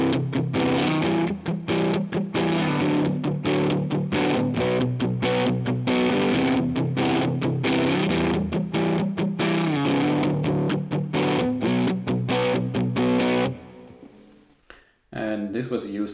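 Distorted electric guitar on a split-coil neck pickup playing a steady rhythmic riff of chunky chords, loud and close, stopping abruptly near the end before a brief noisy rustle.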